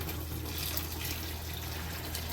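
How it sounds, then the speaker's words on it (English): About three-quarters of a gallon of extra water poured into a pot of soaking beans, a steady, quiet, hissing splash that runs on without a break. "I am going to add in about 3/4 of a gallon of additional water"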